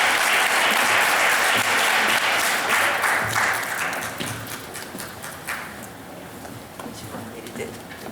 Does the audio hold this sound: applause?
yes